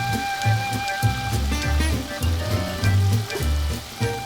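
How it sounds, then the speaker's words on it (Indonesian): Steady sizzling and crackling of taro frying in hot oil, close up, with faint background music and no speech. "Selesai menggoreng semuanya yang perlu digoreng ya"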